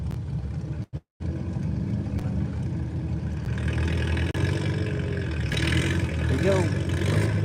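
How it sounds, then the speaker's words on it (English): An antique tractor engine at a tractor pull, idling and then revving harder as it builds, a steady mid-to-low drone with a brief dropout early on, heard outdoors with crowd noise and voices around it. "Go tractor pull, baby."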